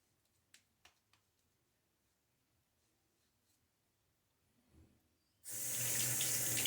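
A bathroom tap turns on and runs steadily for the last second or so while a man rinses his face between shaving passes, after a few faint taps and small handling noises in a quiet room.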